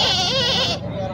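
A goat gives a single loud, wavering bleat close by at a busy goat market in Bhopal, followed by quieter background noise.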